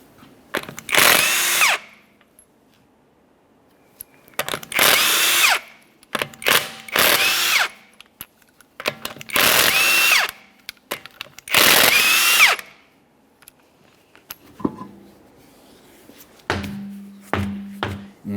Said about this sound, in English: we'll continue on to removing all 5 of your 21mm lug nuts and then the wheel